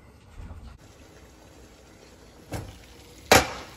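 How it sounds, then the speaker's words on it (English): Water boils in a pot on a home kitchen stove while iced tea is being made, giving a soft, steady bubbling hiss with two sharp knocks near the end. "Water is boiling."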